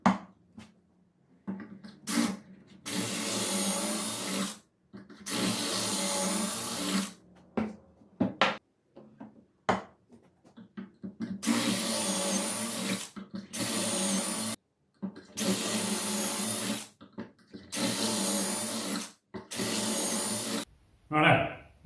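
A drill bores pocket holes through a Kreg Jig set for 19 mm stock while building a lift-top coffee table, giving loud whining bursts of several seconds each, separated by short quiet gaps and close by.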